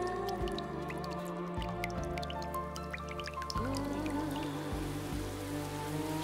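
Rain falls in an animated cartoon, scattered drops plinking over a bed of sustained musical tones.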